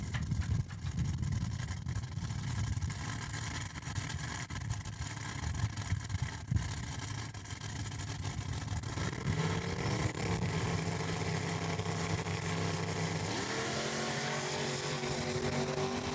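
A 1967 Ford Falcon and a 2011 Chevy Camaro launch side by side down a drag strip at Saskatchewan International Raceway, a loud continuous engine roar with rising pitch as the cars accelerate through their runs.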